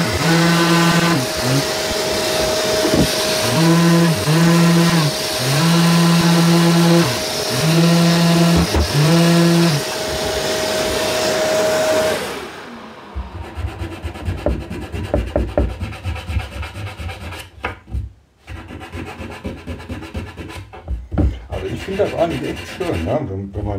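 Sanding an oak roll holder by hand, a steady dry rasping rub with rhythmic strokes that runs close and loud for about twelve seconds, then gives way to quieter scattered scraping and handling noises.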